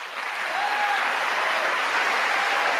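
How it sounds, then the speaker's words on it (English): A large audience claps at length during a speech, a dense, continuous wash of applause that swells slightly and holds steady throughout. "he can't even say that without just clapping every 5 minutes"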